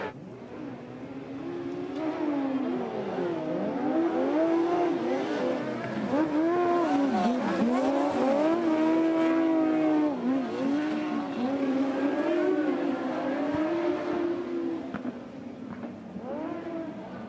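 Racing motorbikes on an arena track roar past with rising and falling engine revs, several machines overlapping in a loud, sustained wail that swells and fades through the lap.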